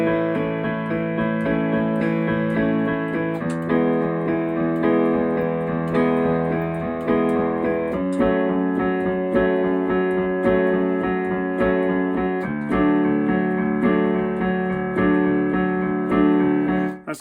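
Solo piano plays a song with a steady four-on-the-floor left hand, even repeated chords pulsing under the melody, close and clear with no talking.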